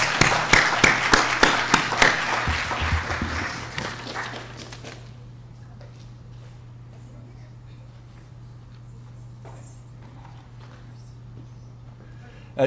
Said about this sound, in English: Let's give me a round of applause